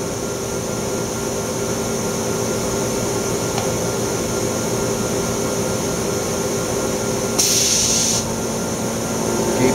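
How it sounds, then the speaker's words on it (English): An Oxford Plasmalab 800 Plus PECVD system running its vacuum pumps, a steady broadband hum and hiss with faint tonal lines, plus a brief brighter hiss burst near the end as it switches to fast pumping. "we'll go into fast pumping mode"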